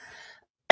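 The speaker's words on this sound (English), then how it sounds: "Not sure why I'm coughing." A single short cough bursts out at the very end, after a faint trailing sound fades to silence.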